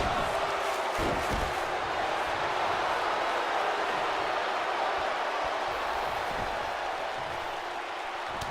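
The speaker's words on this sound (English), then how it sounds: "Crowd chanting," A virtual wrestling arena crowd in WWE 2K19 roars and chants in a continuous, dense wash of voices, loud and sustained across the whole stretch with a few sharper bursts near the start.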